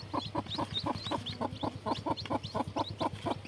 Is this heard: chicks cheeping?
yes